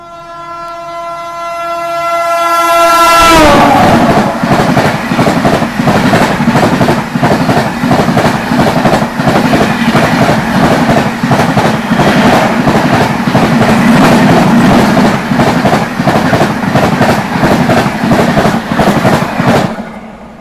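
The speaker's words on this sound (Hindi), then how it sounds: "ये आ गई हावड़ा नई दिल्ली राजधानी एक्सप्रेस ओवरटेक करने" Howrah–New Delhi Rajdhani Express overtaking on the main line: a train horn blares for about three seconds, then loud, continuous rumble and rhythmic wheel clatter fill the rest as the fast train passes close by, with no talk.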